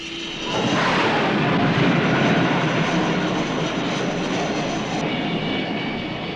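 A 32.5-ton A-3 Skywarrior bomber, nicknamed the Whale, launches from the carrier USS Constellation. Its loud, roaring jet engines surge up and hold a broad, sustained blast with no speech over it.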